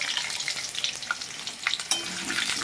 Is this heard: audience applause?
no